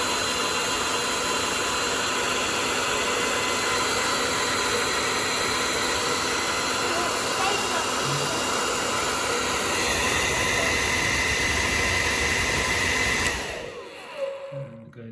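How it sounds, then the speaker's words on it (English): A hair dryer blows with a loud, steady whooshing roar for several seconds, then cuts off abruptly, leaving near silence. "And now turn on the hairdryer."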